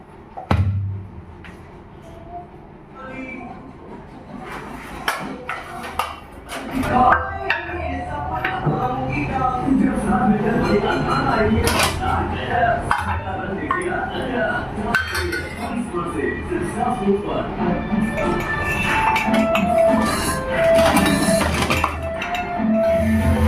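A clay water pot (matka) is washed and cleaned at home: scattered clinks, knocks and scraping with watery rustle, fairly close and steady, with occasional speech in the background.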